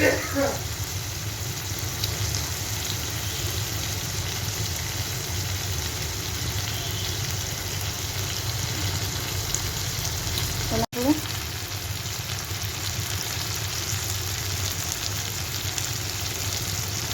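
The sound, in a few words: egg curry masala sizzling while being sautéed in pan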